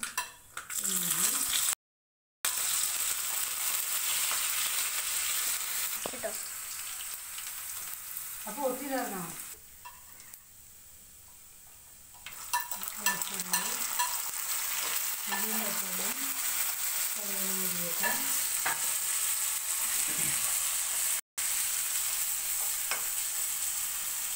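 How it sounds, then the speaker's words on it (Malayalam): Mustard seeds popping and sizzling in hot oil for a chili pickle, a continuous bright crackle with scattered pops, stirring and utensil clinks, and a quieter pause midway. "കടുക് പൊട്ടിയിട്ടുണ്ട്."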